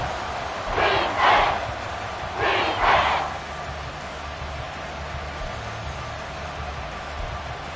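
An NFL football stadium crowd at fever pitch, roaring in two loud broadband surges that swell and fade, over a steady background hum of the packed stands.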